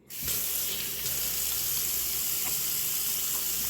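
A sink tap runs steadily as hands are washed beneath it, a close, even hiss of flowing water starting abruptly and continuing without break, no voices over it.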